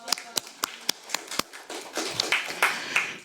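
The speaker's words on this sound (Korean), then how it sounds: "박수." At a panel discussion on women's political representation, a handful of isolated claps ring out, then build into a fuller round of applause from the seated audience.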